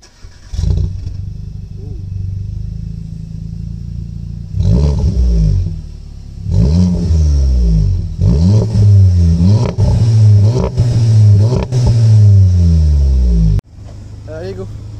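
A Volkswagen Golf GTI engine revs up and down repeatedly, loud and close, with rising and falling pitch sweeps between steadier idle stretches and a sharp cut near the end; a voice speaks briefly over it.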